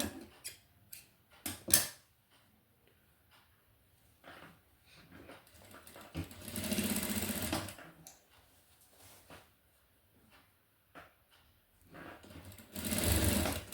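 An electric sewing machine stitches a zip onto a lehenga skirt in short, close bursts of rapid mechanical whirring, with a sustained run in the middle and another at the end, separated by near-silent pauses.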